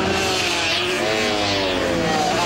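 Suzuki SV650 race motorcycles blast past on a street circuit at Greymouth, engines loud and high-revving with a rising, sweeping pitch as they go by close.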